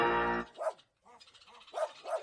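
A dog gives a few short, close barks and yips after a brief opening tone, with short pauses between them.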